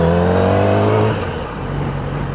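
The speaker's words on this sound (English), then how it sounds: "riding the bike without the baffle in it. Sounds really good." A motorcycle with a slip-on exhaust and the baffle removed revs hard and close, its rising roar dropping away after about a second to a lower, rougher rumble.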